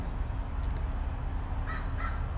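A crow caws twice in the trees overhead, two short hoarse calls at some distance over a steady outdoor background hiss.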